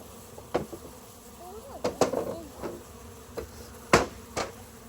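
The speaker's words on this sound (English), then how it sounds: "a package of bees. So these are carnioleans." Carniolan honeybees in a shipping package give a faint steady buzz, with a few sharper knocks and brief louder buzzing bursts scattered throughout.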